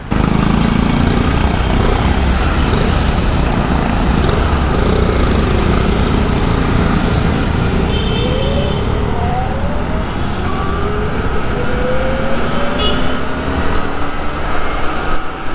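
A Bajaj Pulsar 220 petrol motorcycle and an Ultraviolet F77 electric motorcycle ride along, with a loud steady engine drone, rising whine sweeps and heavy wind rush throughout, no voices.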